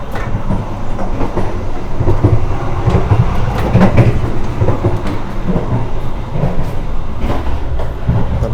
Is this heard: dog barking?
no